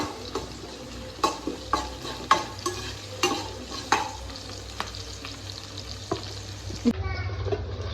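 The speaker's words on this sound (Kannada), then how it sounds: "ಸ್ವಲ್ಪ ಕರಿಬೇವು ಸೊಪ್ಪು ಚಂದ ಮಿಕ್ಸ್ ಮಾಡ್ಕೊಳ್ಳುವ" Crab curry masala with curry leaves being stirred and fried in a pan: a steady close sizzle runs throughout, broken by repeated scraping strokes of a spoon at an uneven rhythm, with no talk.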